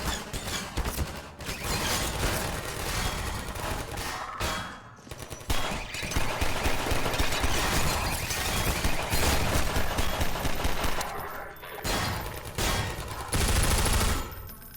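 Automated turret in the Half-Life 2 video game firing sustained rapid bursts of machine-gun fire, loud and dense, with brief gaps before the fire resumes.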